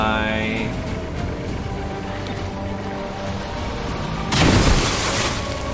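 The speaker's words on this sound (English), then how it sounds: "Why don't I just flashbang everyone?" A flashbang grenade goes off in the video game XCOM: Chimera Squad as a short, heavy burst of noise over a steady, busy bed of game music and ambience.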